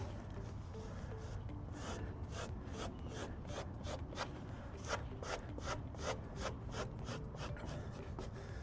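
A squeegee presses XPEL protective armor film onto a Tesla Cybertruck door in quick, steady rubbing strokes, close up and regular in rhythm against a constant background hum.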